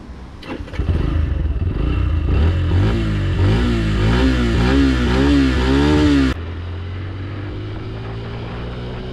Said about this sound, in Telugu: ఆ ఇంజన్ నుంచి వచ్చేటువంటి ఆ బీటింగ్ కావచ్చు, ఎగ్జాస్ట్ నోట్ కావచ్చు, రిఫైన్మెంట్ లెవెల్స్ కావచ్చు, చాలా మంచిగా ఉంది.